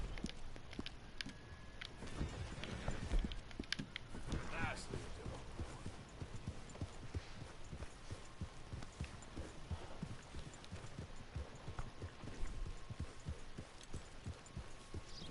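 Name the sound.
Turkoman horse hooves clip-clopping, from video game Red Dead Redemption 2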